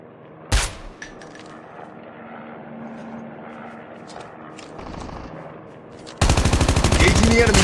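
Gunfire in a Call of Duty squads match: an early sharp single shot and quieter distant shots, then a loud rapid automatic burst at the end, over faint game ambience.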